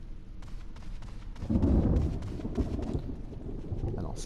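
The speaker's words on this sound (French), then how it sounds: "ça tonne encore un petit peu, mais on sent qu'il s'est éloigné" Thunder rumbling in a Resident Evil video game as a storm moves off, a low, swelling rumble that rises midway and fades back, with light rain-like patter and faint taps throughout.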